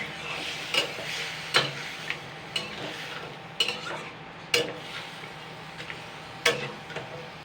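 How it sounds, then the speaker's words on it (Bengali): Washed cock chicken meat lightly frying in oil crackles under a continuous sizzle, with sharp metal spatula clinks against the pan coming every second or so at close range. "তো সবার প্রথমে কিন্তু আমি যে ধুয়ে রাখা মাংসটাই আমি আগে দিয়ে দেবো। এটাকে আমি তিন মিনিট মতন, মানে 2-3 মিনিট আর কি হালকা ফ্রাই করে নেব।"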